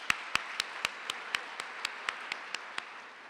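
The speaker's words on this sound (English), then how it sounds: "I first want to give the state and the legislators and Governor Brown a big round of applause for passing the motor voter bill." A single pair of hands claps in a slow, even rhythm, about a dozen distinct claps over steady room noise at a county forum, with no crowd applause building around them.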